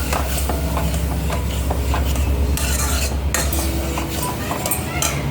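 A utensil stirs milk into pasta sauce in a pan, with continuous scraping and clinking against the metal over a steady sizzle, close and fairly loud throughout.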